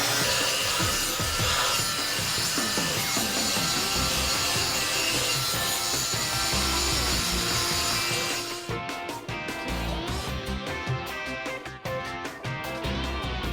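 Mill scale is scrubbed from the beveled edge of a steel plate with a continuous, harsh abrasive rubbing that stays close and loud throughout and turns choppier near the end.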